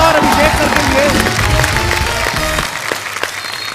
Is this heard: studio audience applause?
yes